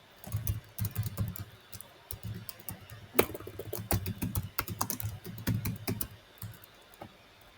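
Typing on a computer keyboard while entering data into a form, with continuous rapid clicky keystrokes in bursts, close and moderately loud, with a few brief pauses.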